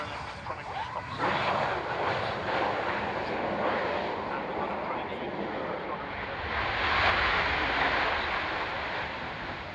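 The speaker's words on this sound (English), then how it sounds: "Just watch the tornadoes landing." RAF Tornado jets landing at the Fairford airshow give a broad, steady roar with a swelling rush, heard from a distance under wind and crowd noise.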